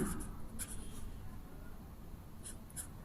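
A pen scratches across paper close by, with short strokes and small pauses as a line of writing goes down in a quiet room.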